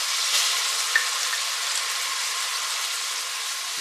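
Meat stir-frying in oil for Korean jjamppong gives a steady, even hiss of sizzling, close and continuous, with one small pop and no voices.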